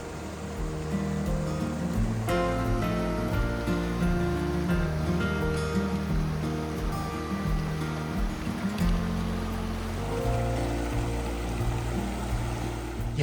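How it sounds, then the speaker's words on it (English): Stream water rushes over a trail crossing in the High Sierra of Yosemite, a continuous broad wash of flowing water heard close and steady throughout, with no talk. "So it looks like we have our first water crossing."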